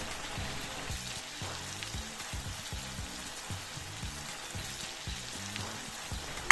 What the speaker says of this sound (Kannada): ಈರುಳ್ಳಿನ ಒಂದು 7ರಿಂದ 8 ನಿಮಿಷದವರೆಗೆ ಫ್ರೈ ಮಾಡ್ಕೊಳ್ಳಿ.